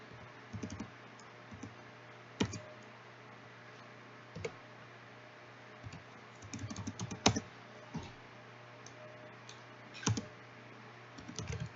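Computer keyboard typing in scattered bursts of quick key clicks with pauses between, close and fairly quiet, with no voice over it.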